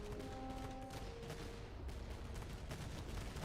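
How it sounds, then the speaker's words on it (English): Musket volleys and cannon fire boom across a battlefield in the Master of Command video game, dense overlapping crackling shots and rumbling blasts rolling on without pause at moderate distance. "I love the gunshots."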